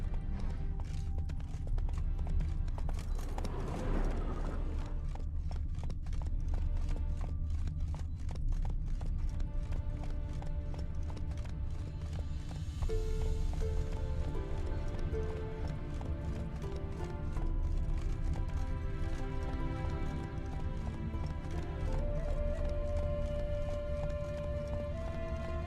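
In The Witcher 3 video game, a horse gallops with a continuous rapid clip-clop of hooves over a low rumbling bed, joined by a brief whoosh and scattered game sounds.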